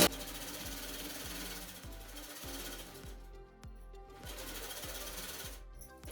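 Sewing machine running a double stitch along a basket handle, a rapid mechanical chatter in bursts with short pauses between runs, close and fairly quiet, no talking.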